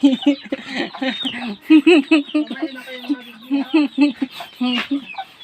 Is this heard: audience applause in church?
no